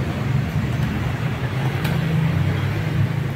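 A Motoposh Evo 150 motorcycle idles with its exhaust putting out a steady, low, even rumble at close range, with no one speaking.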